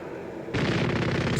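Gunfire in a sci-fi horror narration bursts in suddenly as a loud, rapid rattle of shots, like a dense automatic volley, following a brief quieter moment.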